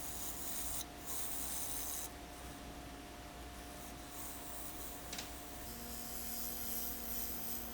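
Butternut slab spinning on a wood lathe as a tool removes material, making a steady, quiet scraping hiss with a constant low motor hum and a couple of brief shifts in the cut.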